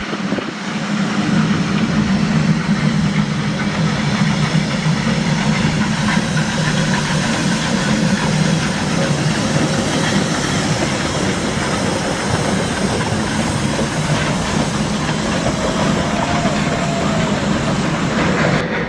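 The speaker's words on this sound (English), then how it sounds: "our engine number 110 will have to work extra hard as it climbs the grade" Steady, loud rumble and clatter of engine number 110, a train climbing a grade near Hill City, South Dakota, holding constant throughout with no talk.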